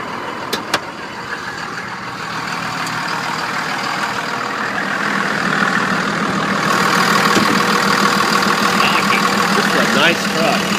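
A truck engine idles steadily under the open hood, a continuous low rumble that grows slightly louder partway through, with a few brief clicks near the start.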